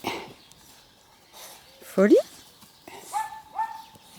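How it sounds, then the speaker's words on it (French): Small female dogs bark and yip at a country home, a few sharp high barks in a short cluster followed by two more yelps, heard between bursts of people talking. "c'est les petites chiennes de ma sœur"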